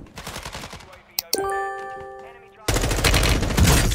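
Gunfire in the video game Warzone 2 comes in short bursts, with some ringing tonal game sounds in between, then a loud sustained rattle of shots at the end.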